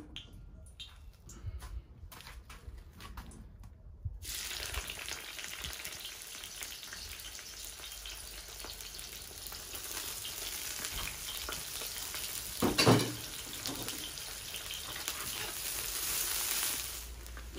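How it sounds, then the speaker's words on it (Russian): Hot oil sizzling with a dense, steady hiss and crackle as onions go in, close by, preceded by a few seconds of quieter clicks. "О, все, масло уже шипит."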